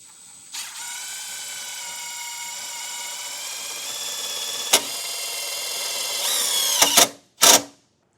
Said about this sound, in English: we'll use the included self-tapper and get that drilled into some metal here